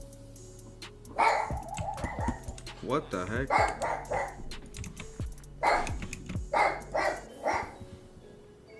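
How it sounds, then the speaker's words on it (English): A dog barks repeatedly in short, sharp bursts spread across the stretch, mixed with close keyboard typing and a person talking. "I've never heard my dog bark like that before."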